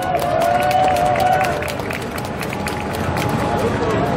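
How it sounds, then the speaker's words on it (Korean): Sustained applause and crowd noise from an audience at a Pump It Up dance-game competition at PlayX4 2018, cheering a tournament winner; dense, steady clapping holds throughout with a faint murmur of voices. "큰 박수 부탁드립니다."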